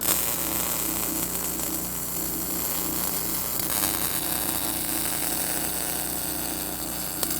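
Continuous electric welding of a suspension bracket for a Toyota 4Runner, a steady crackling buzz with a low hum, close and even throughout with no speech.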